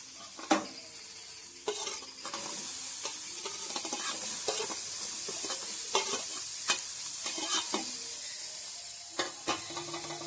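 Onion sizzles in oil in a pan while a spoon scrapes and stirs it, soft steady frying hiss broken by sharp scraping knocks at irregular intervals, close and fairly quiet with no talk.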